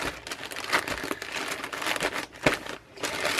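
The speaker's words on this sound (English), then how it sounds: "Put a little tape on it." Packing tape pulled and pressed onto a comics shipping package, a steady close crinkling and crackling rasp with a few sharper tearing bursts, no talking.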